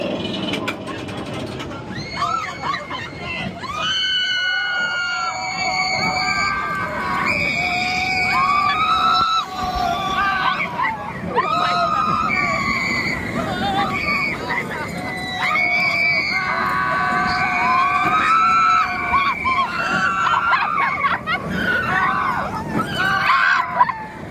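A ride on the Silver Bullet roller coaster at Knott's Berry Farm, with riders screaming throughout over a constant roar of the train, loud and sustained for the whole run.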